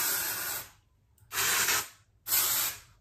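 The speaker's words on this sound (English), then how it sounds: "I mean, we all know how to use dry shampoo. If not, that's how you use it." Dry shampoo sprays onto hair roots in three hissing bursts, each about half a second long, separated by brief silences.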